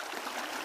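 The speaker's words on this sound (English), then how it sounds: "Fair bit of water coming down, but some good rain over the last couple of days." A small trout stream running high and slightly discoloured after rain rushes steadily, a close, continuous broadband wash of water with no voices.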